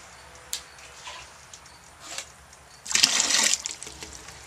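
Water fills a home brewing tank, a few faint drips and clicks first, then a louder, close gush of pouring liquid that runs for about a second before tapering off.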